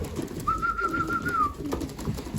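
A racing pigeon in a loft gives one drawn-out coo lasting about a second, clear against a faint background of loft noise.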